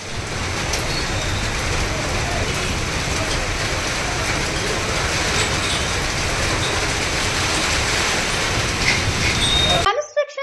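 Heavy rain pours down in Kodad town, a dense, loud, continuous roar that holds steady for about ten seconds before cutting off abruptly.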